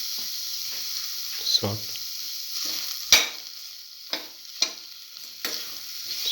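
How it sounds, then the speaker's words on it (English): Tomato pieces saute in a pan for an eggplant and cottage cheese wrap, a steady close sizzle broken by several sharp clatters of stirring, with one brief spoken word. "Keep on sauteing."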